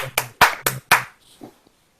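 A handful of sharp, separate hand claps ring out at the close of a masterclass, loud and near, followed by a few faint soft sounds.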